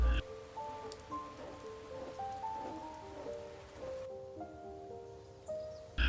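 The first rains of the season fall in the Botswana wild as a steady, soft patter of drops on the ground and foliage, with faint tonal sounds drifting through the background.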